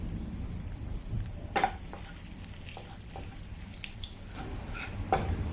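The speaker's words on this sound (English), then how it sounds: "Add the cumin seeds and wait for it to start crackling" Cumin seeds crackling in hot ghee while tempering spices for dal tadka, a steady close sizzle with scattered sharp pops and crackles, no talking.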